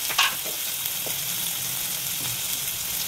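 Moong kichadi ingredients sizzle in an oiled pan, a steady close hiss with a sharp scrape of a spoon near the start and a few soft stirring knocks afterward, no voices.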